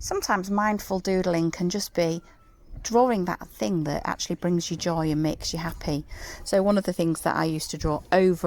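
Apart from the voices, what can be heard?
None of the usual background noises is heard.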